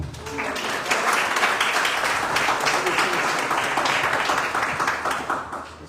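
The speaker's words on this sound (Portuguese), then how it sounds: "Você pode aplaudir o Senhor?" Church congregation applauding during an evening prophetic worship service, sustained dense clapping from many hands throughout, with voices beneath it.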